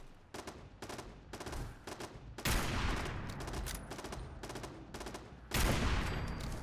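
Rapid turret gunfire in the video game Fallout 4, loud repeated bursts of shots with heavier blasts around the middle and near the end, no speech.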